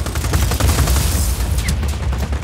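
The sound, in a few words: gunfire in the video game Just Cause 4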